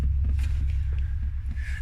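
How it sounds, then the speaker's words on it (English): An engine idles outside with a low, steady throbbing rumble, moderately loud and continuous with faint background noise, and no voices. "I just heard something idling and it sounded really badass"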